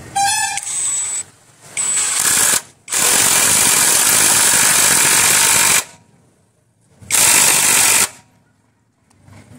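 An Ingco 20V cordless impact wrench tightens a nut in loud hammering bursts, a short one, a longer one, a sustained run of several seconds and a final burst, with silent pauses between.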